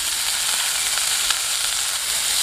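Chicken tikka pieces for butter chicken sizzle steadily in a hot pan, a dense, even frying hiss that holds at a constant close-up level for the whole stretch with no voices.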